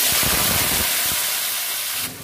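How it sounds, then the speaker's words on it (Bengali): Diced potatoes frying in mustard oil, a loud, dense sizzling hiss close up, with a few spatter pops early on before the sound eases slightly. "আলুগুলো কেটে রেখেছি, ডুমো ডুমো করে আলুগুলো ভেজে নেব।"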